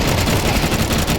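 Rapid gunfire in a tactical shooter video game, a dense, loud burst of continuous shots lasting about a second with no voices.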